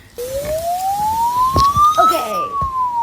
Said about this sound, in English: that's just a police siren